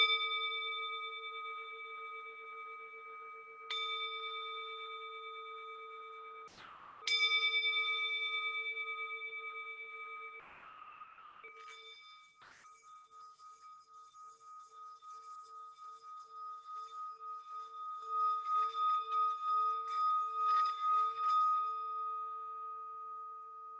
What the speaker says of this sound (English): When you can no longer hear the sound of the bell